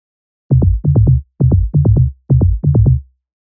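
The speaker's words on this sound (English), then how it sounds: "Second tom bass is a lot simpler, sounds like this." Deep synthesized analog techno tom bass, built from sine waves, hits in three pairs of quick strikes, each a booming low thump with a falling pitch sweep, clean and isolated with no talking.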